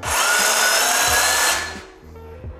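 A Bosch cordless rotary hammer drill whirs loudly and steadily up close, then cuts out abruptly as its safety feature stops it, leaving a fading hum and faint rattles.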